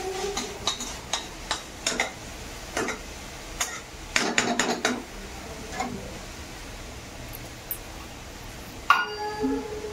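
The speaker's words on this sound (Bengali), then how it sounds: "চলো শাকটি ভাজা করছি।" Leafy greens fry in a pan with a steady soft hiss, punctuated by the clinks and scrapes of a spatula stirring against the metal.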